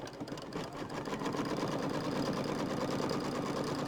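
An embroidery machine tacks fabric down for quilting, a steady fast mechanical stitching whir heard close and fairly quiet, with no talk.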